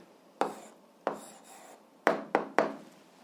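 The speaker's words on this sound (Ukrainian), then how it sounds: "Тоді записуємо відповідь, пишемо відповідь." Pen strokes scratch across paper while an answer to an 8th-grade algebra exercise is written out, five short sharp scratchy strokes, close and fairly quiet, in an uneven rhythm.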